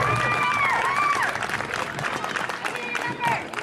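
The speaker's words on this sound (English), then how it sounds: "Let's give all of these dancers a round of applause." Crowd applauding dancers at an Ori Tahiti dance competition's preliminary round, steady clapping that continues under a speaking voice and fades slightly toward the end.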